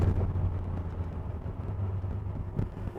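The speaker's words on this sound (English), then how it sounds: "Listen to the exhaust. It's got a tough sounding exhaust on it also." A 1948 Ford F1 truck rumbles along with a tough-sounding exhaust, a steady low engine drone heard from inside the cab while driving, with road and wind noise mixed in.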